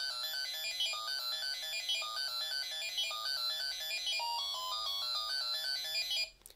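A bright, beeping electronic melody, the winner's tune of the 1980s Dungeons and Dragons Computer Labyrinth board game, plays steadily for several seconds, stepping through quick high notes like a toy jingle, then cuts off abruptly.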